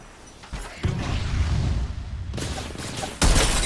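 Gunfire in the battle royale game Apex Legends, loud dense bursts of rapid shots and booming impacts, with sharp volleys near the start and end.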